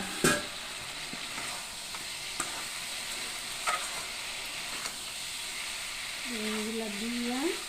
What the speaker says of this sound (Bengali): আলুগুলো সিদ্ধ হয়ে দিচ্ছি যে আমি বেগুনগুলো দিয়ে দিতেছি।